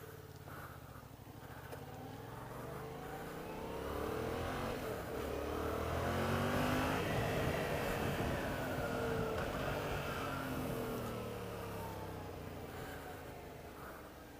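A Yamaha MT-07 with its 655cc learner-legal engine under way, a steady close drone with rising and falling rev sweeps and no talking over it.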